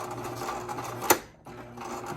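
A Brother LX 2375 sewing machine stitching a few reverse backstitches, a steady close mechanical whir with a sharp click partway through and a brief pause before the motor resumes.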